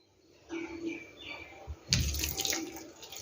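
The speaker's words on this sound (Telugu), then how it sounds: "నీళ్ళు కూడా ఇందులో పోసేస్తాను" Water splashing from a tap or being poured into pumpkin batter for Andhra-style vadiyalu, a short burst of close running water with a few light knocks just before it.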